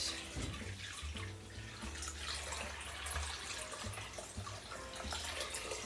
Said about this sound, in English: Now I'm going to put about 1 quart of water in here